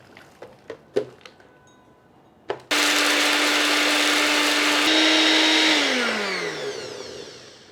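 An electric kitchen grinder whirs steadily as it grinds roasted spices into fine powder. The loud motor starts abruptly after a few light taps and then winds down at the end.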